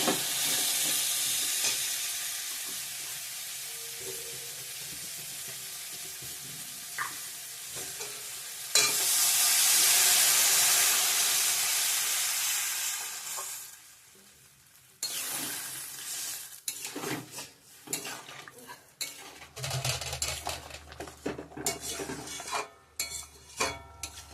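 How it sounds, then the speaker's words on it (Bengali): Ingredients for a Bengali egg curry fry and get stirred in a pan, a close sizzle with scraping spatula strokes and clinks; a burst of loud hissing steam midway, then quieter, intermittent stirring and pan knocks. "হয়ে গেছে ভাজা ভাজা জল অ্যাড করে দেবো"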